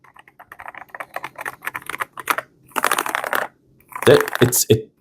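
Soft, muted keystrokes patter in uneven bursts on an Akko MU02 keyboard with a wooden case and soft, non-clicky silicone-like keys, close to the microphone, with a faster flurry near the end.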